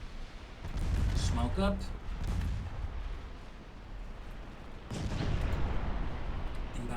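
Naval guns fire a full broadside in the warship game Ultimate Admiral: Dreadnoughts. Heavy booming salvos roll out under continuous radio-style chatter and game voices, with a second burst of rumbling fire near the end.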